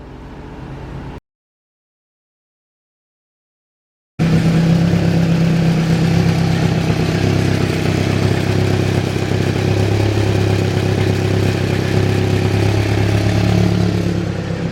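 A car engine runs after being started, a loud steady idle with a rumbling low drone and light mechanical clatter, after a brief gap of silence, with no talk.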